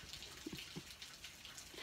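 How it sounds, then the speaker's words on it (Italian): Melting snow drips and splashes from overhanging roof channels in a sunny village square, scattered close drops landing irregularly, soft and faint, with no voices. "C'è la neve che si sta sciogliendo, ci sono questi canali a sbalzo e ti piove l'acqua addosso"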